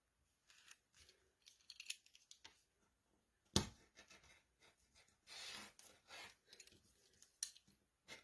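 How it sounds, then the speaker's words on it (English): Scissors snip the corners off iron-on fabric for a junk journal cover, a series of close, quiet cuts and rustles in irregular bursts, with one louder sharp snap partway through. "So now, just like the paper, we're going to cut out the corners."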